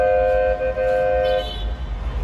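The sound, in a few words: noisy Egyptian street traffic with car horns from balcony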